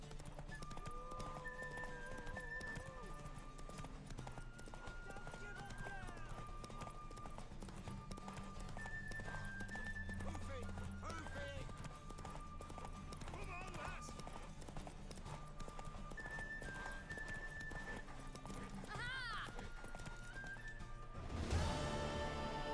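Horse hooves clip-clop in The Witcher video game, a steady rhythm of steps beneath continuous game music and talking voices, with a horse neigh near the end.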